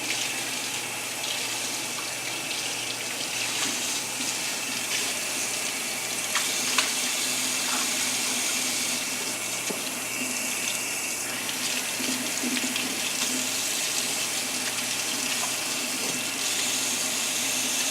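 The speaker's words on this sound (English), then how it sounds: "I'm going to take my siphon starter and I'm going to rinse that clean." Tap water runs steadily and loudly into a sink while a plastic siphon starter for bottling mead is rinsed under it, with occasional knocks and splashes as it is handled.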